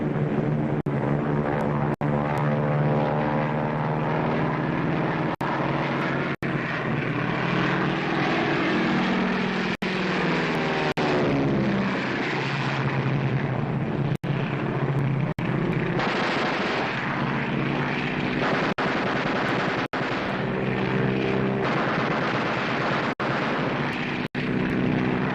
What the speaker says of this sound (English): Private Osmond, plane number 22, go ahead